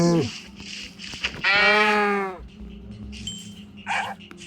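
A video game cow lowing once in a loud drawn-out moo, close and clear, with brief game sounds and a little voice chatter around it.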